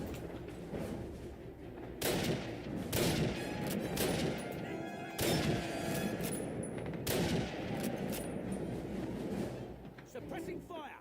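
Bursts of suppressing machine gun fire in a Call of Duty war game, sustained rapid volleys of gunfire with sharp louder blasts around 2, 5 and 7 seconds, faint overall.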